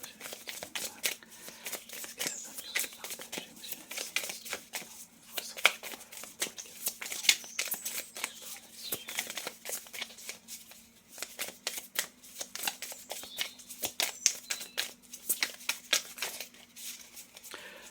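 Tarot cards being shuffled by hand up close, a quiet run of rapid riffling and flicking bursts in irregular clusters with brief pauses between, with no talking.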